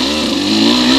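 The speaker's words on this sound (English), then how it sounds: "Riding Chef John. Lent me his 200 XCW. Pretty sweet little bike for down here" A KTM 200 XCW two-stroke dirt bike at the Kahuku Grand Prix race holds a loud, buzzing high-rev engine note that climbs slightly over a brief moment, heard up close.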